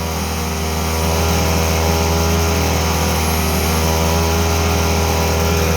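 A mini generator engine runs under electrical load with a loud, steady, even drone and strong harmonic hum that holds throughout without talk.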